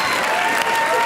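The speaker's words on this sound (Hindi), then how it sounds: "जोरदार तालियां इनके लिए।" Studio audience at a Hindi comedy show bursting into applause, a dense steady wash of clapping lasting about a second without pause.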